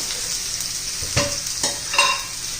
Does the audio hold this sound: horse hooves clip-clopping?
no